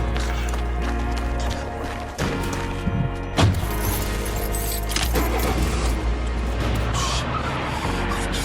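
Tires skid and squeal from a car in a shooter-style video game, with engine noise and repeated impacts running throughout, loud and close, with no speech.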